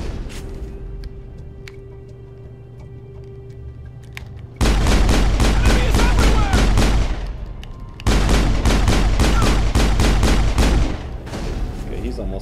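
Gunfire in the video game Mass Effect, two long loud bursts of rapid automatic shots separated by a quieter gap of background game ambience.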